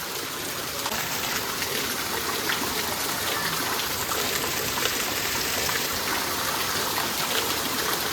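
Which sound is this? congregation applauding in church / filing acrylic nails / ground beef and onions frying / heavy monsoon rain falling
heavy monsoon rain falling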